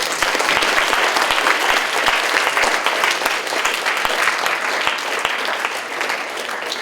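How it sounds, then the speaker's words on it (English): Steady, dense applause from an audience at a student organization meeting, even and continuous for several seconds with no talking over it. "Round of applause for Brett."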